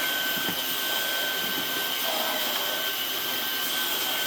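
A Dyson DC49 digital cylinder vacuum cleaner runs with a steady, loud, high-pitched whine and airy roar that holds unchanged throughout, close by with no other sounds.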